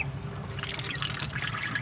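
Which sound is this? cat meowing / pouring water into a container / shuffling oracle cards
pouring water into a container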